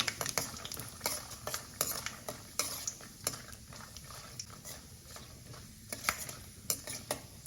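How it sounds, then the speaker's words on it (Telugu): Mustard seeds and peanuts fry in hot oil in a pan, a faint steady sizzle broken by repeated sharp clicks and pops of stirring against the pan. "ఆవాలు వేసుకుంటున్నాను పల్లీలు వేసుకున్నాను కొంచెం వేగాలి"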